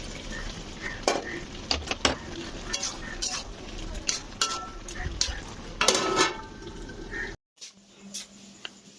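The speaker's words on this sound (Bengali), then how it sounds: "এবার ভেজে রাখা চিংড়ি মাছগুলো দিয়ে দিলাম।" Fried prawns tumble into a pot of potatoes and pointed gourd and get stirred, with scraping utensil clinks against the pot and a soft sizzle running under it before the sound drops out briefly near the end.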